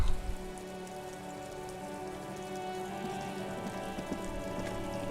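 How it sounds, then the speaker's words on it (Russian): Steady rain patters on surfaces in the detective role-playing game Disco Elysium, a dense, even hiss holding at moderate level throughout with no voices over it. "О, дождь."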